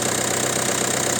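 A Peugeot/Citroen PSA 1.5 HDi DV5RC diesel engine runs just after a cold start with extraneous noises, giving a close, steady idle clatter that fills the short stretch without a break.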